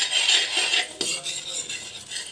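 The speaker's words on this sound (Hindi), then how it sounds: "और मिल्क पाउडर को डालते हुए इसे मिलाते जाना है।" Spoon clinking and scraping against a pan as milk powder is mixed into ghee and milk over low heat for milk powder peda, a few quick metallic taps in close succession.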